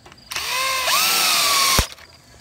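A power drill drives a screw to fix a fixture onto a truss in one loud whirring burst of about a second and a half, rising briefly in pitch partway through, then stopping sharply with a clunk.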